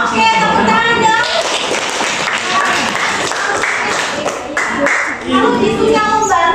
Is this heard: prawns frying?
no